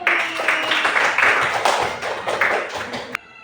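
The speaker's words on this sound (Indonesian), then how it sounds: "kita beri tepuk tangan buat Mira dulu." A classroom full of people clapping together, steady and fairly loud, with lighter hand taps mixed in before it cuts off abruptly near the end.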